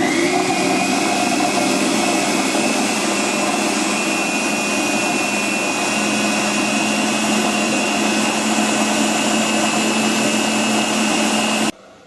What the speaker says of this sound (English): The fruit is crushed in a food processor for a few minutes.